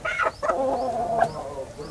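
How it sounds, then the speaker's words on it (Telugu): Berasa breed hens in a shed of about fifty birds cluck softly, a few short, fairly faint calls scattered over a brief, quiet moment. "ఈ పెట్టలు వచ్చేసి అంతా బెరస జాతి పెట్టలండి, బెరస జాతి పెట్టలు"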